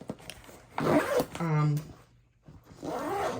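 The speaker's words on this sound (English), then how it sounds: "I only have to do 1 zip to get to them" A zipper is pulled open on the front pocket of a Vanquest TEKKO sling bag in a single close, raspy zip, with a man's speech before and after it.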